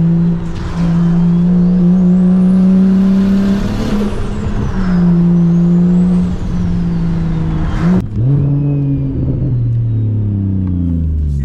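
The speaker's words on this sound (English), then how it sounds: "I'm gonna do an anti-lag one more time." A loud big-turbo BMW 335i engine revving and holding, with a sharp anti-lag pop and crackle near the end as the revs drop and climb again, close by.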